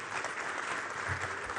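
A crowd applauds the Honorable Minister at the Global Tourism Resilience Day event at KICC, a dense, steady wash of clapping that carries on throughout without a break.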